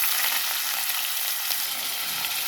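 Onions fry in hot oil, a loud, dense, continuous sizzle heard close up with no voices over it.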